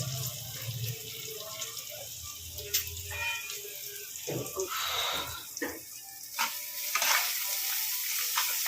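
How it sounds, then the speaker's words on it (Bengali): Tomatoes frying in a pan for a vegetarian tomato chutney, with steady sizzling, stirring scrapes and occasional clinks throughout, no talking. "এরা এখানে এসছে টমেটোর চাটনি করতে যেহেতু আজকে নিরামিষ রান্না বান্না সেই জন্য টমেটো চালিয়ে বসেছি"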